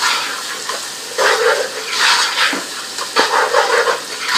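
Garlic and ginger sizzling in hot oil with onion for a mutton and chana dal curry, a steady close crackle and hiss that swells in bursts, with no voices.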